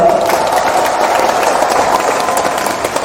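Steady, dense applause from a crowd at an outdoor Democratic Party presidential campaign rally for Lee Jae-myung in Iksan, continuous and fairly loud throughout with no talk over it.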